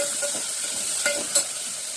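A spiced tempering of red chilli powder, onion-garlic masala, turmeric and asafoetida sautéed in a pan gives a steady quiet sizzle with a couple of light stirring clicks and no voices.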